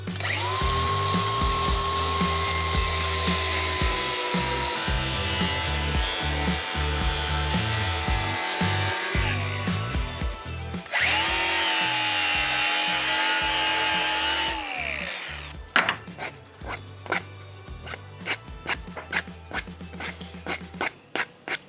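A bolt is cut during a boat fitting install. A loud, steady mechanical whine runs for about fifteen seconds, then gives way to a quick series of rhythmic rasping saw strokes.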